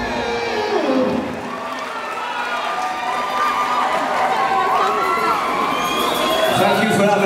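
Concert audience at the Fox Theater in Pomona cheering and shouting for a band, a dense roar of crowd voices and whoops sustained throughout, loud and close.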